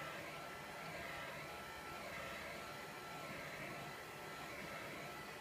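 Steady, loud broadband whoosh of a heat gun blowing hot air onto the front glass of a MacBook Pro during a glass replacement, continuous and unbroken with no speech.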